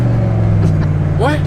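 An abandoned Cadillac limousine rolls slowly on worn, hole-ridden tires, its engine a steady low drone throughout, with brief chirpy vocal sounds near the end.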